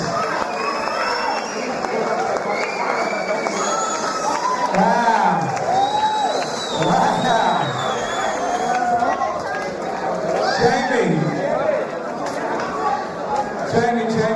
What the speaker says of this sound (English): Big round of applause, round of applause, please